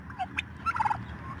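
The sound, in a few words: turkeys gobbling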